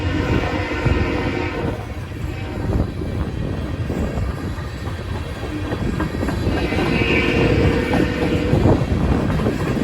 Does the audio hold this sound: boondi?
no